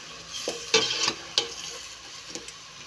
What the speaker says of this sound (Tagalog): Halu-haluin na natin.